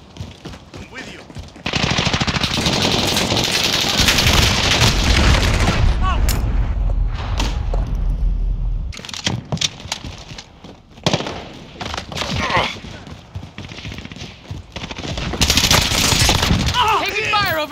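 Loud, sustained automatic gunfire and explosions in the Call of Duty Modern Warfare multiplayer video game, with dense bursts of rapid shots and booms filling most of the stretch, a brief lull, then more volleys.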